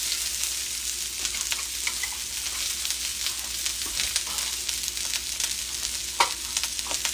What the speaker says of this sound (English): Now, I just want this to kind of stir around and saute for a little bit.